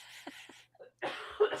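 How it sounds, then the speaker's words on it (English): A single short cough, close and fairly quiet, caught in a brief pause between spoken phrases. "cough real quick"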